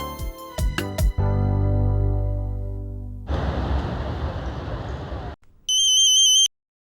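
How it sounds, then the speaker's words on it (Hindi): A phone rings once on an outgoing call, a short bright electronic trill that comes after a stretch of music and then noisy rushing sound. "ये लो, इट्स रिंगिंग।"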